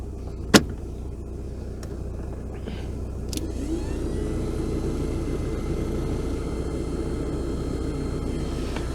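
Volkswagen Scirocco MK2 engine idling steadily with a low, even hum close by. A sharp click near the start and a few faint knocks punctuate the drone.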